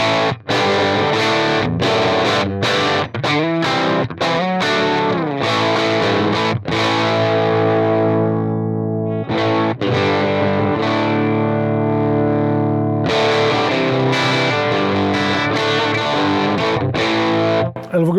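Electric guitar through a 1957 Fender Princeton amp on the bridge pickup, with the tone knob raised to add gain; loud distorted strummed chords and ringing sustained notes, with a brief pause midway.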